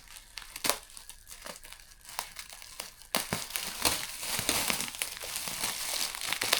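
Plastic polythene wrapping crinkles and crackles as it is cut, with irregular sharp rustles. The sound grows louder and denser partway through, close and handled continuously, with no talk.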